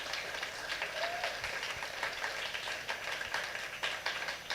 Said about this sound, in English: Let us give a warm round of applause.